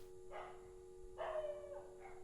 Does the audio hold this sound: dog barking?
yes